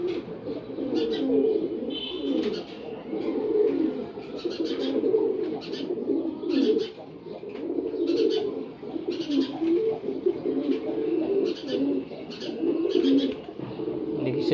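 Male pigeons of a silver breed coo steadily in low, rolling phrases close by, a continuous overlapping murmur with occasional soft chirps above it.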